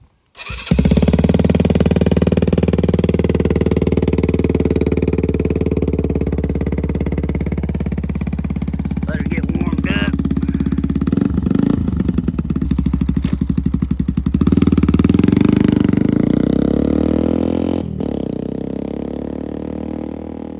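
Loud, steady engine of a Benelli TNT 135 motorcycle with a 4.5-inch rear stretch and no muffler, running close by for the whole stretch with a harsh, sustained drone and rising revs partway through.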